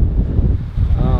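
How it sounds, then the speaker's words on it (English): Loud, low wind at the beach buffets the microphone in a steady rumbling gust, with a hint of surf-like wash beneath it. "It is so windy out here."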